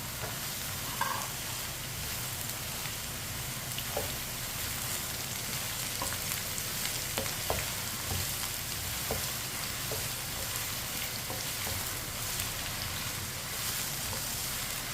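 Chopped ridge gourd (tori) and potatoes fry in a pan while being stirred, a steady close sizzle with scattered scraping and stirring knocks throughout, no voices.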